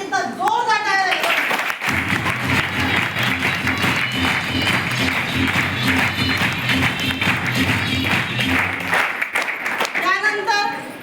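An audience at a stage felicitation breaks into sustained, dense clapping for several seconds, with a voice speaking over the room before and after the applause.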